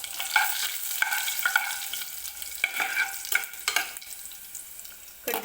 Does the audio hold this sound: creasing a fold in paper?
no